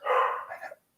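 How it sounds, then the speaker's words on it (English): A dog barks once, a short loud burst close by with no talking over it. "So the dogs are barking."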